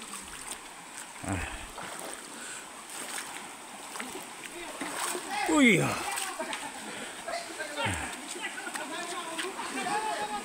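Water from the Ham Ham waterfall rushing and splashing along a wet forest trail, a steady, fairly faint broadband wash heard under people talking nearby.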